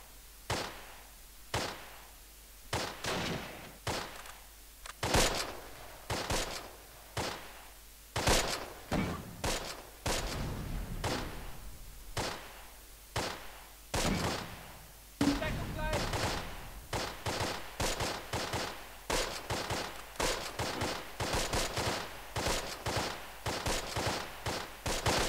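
Rapid gunfire from the WWII strategy game Close Combat: Wacht Am Rhein, a long run of sharp, distinct shots and short bursts, some single and some clustered, varying in loudness and continuing steadily throughout.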